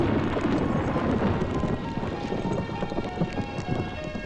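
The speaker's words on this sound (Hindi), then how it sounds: "कमाल का तूफान आया यहाँ।" A storm sends heavy rain drumming steadily while deep thunder rumbles beneath it, loud and close, with no voices.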